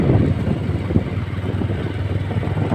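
Engines of many motorcycles carried by a group of bikers riding off-road, a steady low rumbling drone with clattering texture that holds at an even, fairly loud level throughout.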